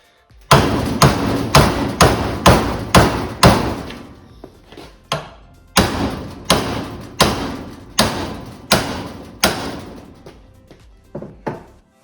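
Hammer striking the front suspension strut of a Porsche 924 Safari, a series of loud, close metallic thuds in two quick rhythmic runs of about six blows each, followed by a few lighter taps.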